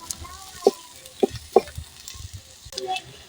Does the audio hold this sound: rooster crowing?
no